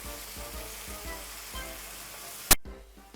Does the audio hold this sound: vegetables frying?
yes